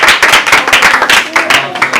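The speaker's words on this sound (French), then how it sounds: "Veuillez vous manifester par vos acclamations." Orphanage children clap close and loud in quick, uneven bursts, with a few voices cheering among the claps.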